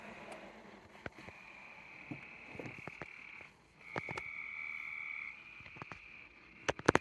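Frogs croak outdoors in a constant droning chorus while a 2000 Nissan Sentra is worked on, with sharp clicks and knocks scattered through it and a brief dip partway.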